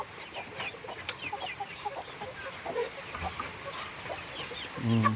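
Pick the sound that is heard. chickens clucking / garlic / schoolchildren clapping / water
chickens clucking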